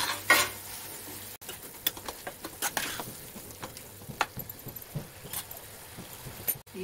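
A spoon stirs masala with added salt in a pan for Hyderabadi egg drop fry, making repeated scraping clinks and a soft sizzle, close and fairly quiet, with no talking.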